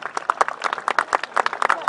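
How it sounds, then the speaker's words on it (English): Outdoor crowd at a history festival battle re-enactment applauds the infantry after a volley, a dense patter of hand claps heard under an announcer's amplified voice. "a round of applause, I think, for our infantry"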